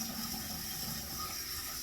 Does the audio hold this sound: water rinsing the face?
yes